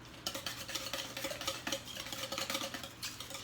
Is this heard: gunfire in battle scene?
no